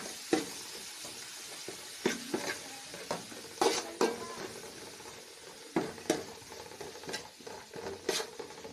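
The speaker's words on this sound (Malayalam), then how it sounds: "പിന്നെ മുളക്, ഇഞ്ചി, വെളുത്തുള്ളി, ചപ്പ് എല്ലാം കൂടിയിട്ടൊന്ന് വാട്ടിയെടുക്കാം" Chilli, ginger and garlic sautéing in a pan for chicken curry, a soft ongoing sizzle broken by repeated scraping stirs and light clinks of a spoon against the pan.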